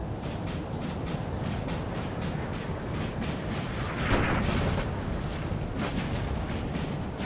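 Cannon fire rumbles through a Napoleon: Total War battle, with repeated dull booms over a dense, continuous roar of combat and a heavier burst partway through.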